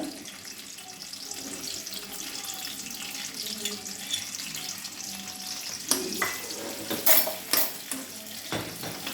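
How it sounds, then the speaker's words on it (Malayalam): Washed raisins and cashews fry in a pan for vermicelli payasam, a steady close sizzle with a few sharper crackles and pops toward the end. "കിസ്മിസും അണ്ടിപ്പരിപ്പും നമുക്ക് ഇതിലേക്ക് മൂപ്പിക്കാനിടാം."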